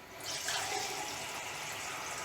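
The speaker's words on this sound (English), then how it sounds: "I'm going to fill that with water." Water runs steadily into a plastic cup in a kitchen, a continuous close hiss and splash that starts abruptly and holds at an even level to the end.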